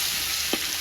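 Spices sizzle in hot oil in a village kitchen before soy sauce eggs are cooked, a steady close frying hiss with a brief stir sound partway through.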